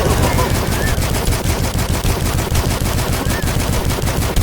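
Rapid, continuous machine gun fire rattles loudly without pause, a dense stream of shots from the video game Dusk.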